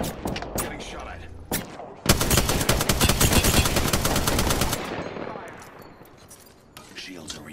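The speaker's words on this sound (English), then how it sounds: "They're shooting at me." Rapid automatic gunfire from the Apex Legends battle royale shooter, sustained bursts of dense, loud shots following a few scattered single shots, then tapering off into quieter distant fire.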